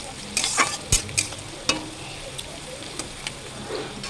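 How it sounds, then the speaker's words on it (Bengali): Chicken for dry chili chicken sizzles in a pan while a utensil stirs it, with soft scraping clicks and knocks over a steady frying hiss, close and fairly quiet. "ভালো করে নাড়াচাড়া করে সুন্দর করে ভেজে নিতে হবে, একটু ব্রাউন করেই ভাজতে হবে"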